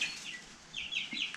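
Young chicks chirping in quick, high peeps, several overlapping calls close by in a short burst, with no voices.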